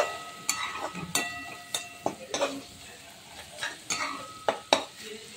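Onion-tomato masala with red chili powder roasting in a pan, a spoon scraping and stirring in repeated sharp strokes over a low, soft sizzle, close and moderately loud.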